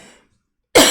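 A single sharp, close cough bursts out loudly after a brief moment of near silence and tails off quickly.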